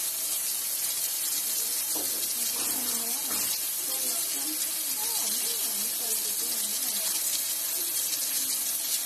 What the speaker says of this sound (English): All right, a little soap on a brass brush.